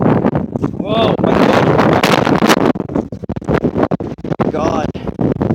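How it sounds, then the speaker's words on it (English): Strong wind blows hard against an outdoor microphone in a wind storm, a loud roaring buffet with gusting rushes throughout, while a person talks over it. "My hood is falling down because the wind is just blowing very hard."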